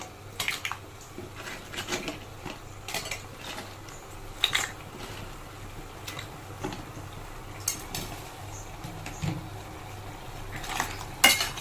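A spoon stirs crab curry in a metal pan, making intermittent scraping and clinking strokes at an uneven rhythm, close and moderately quiet with no talking.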